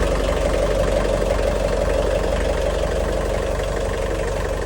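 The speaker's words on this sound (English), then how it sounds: "we need to start the engine just to make sure it's all the way topped up" A sailboat's engine idles steadily and loudly throughout, a continuous low, even rumble with no break or change in pace.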